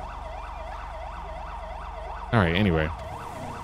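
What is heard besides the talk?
police siren in GTA 5 video game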